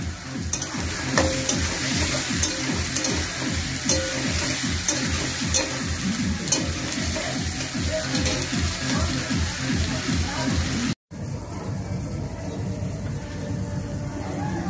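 Onion and garlic sizzle steadily in hot oil for a meat dish, with repeated stirring scrapes; a brief cutoff near the end, then the frying continues close and loud.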